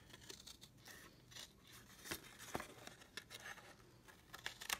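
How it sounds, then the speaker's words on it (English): Scissors cutting through a box from corner to corner during a craft project, close and quiet, with irregular snips, scrapes and crinkles of the material, no one speaking. "If I can get my scissors in, let's see if it's easier to go this way."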